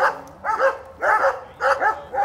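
A dog at a horse-training yard barks four times in an even rhythm, each bark sharp and fairly close, with short gaps between.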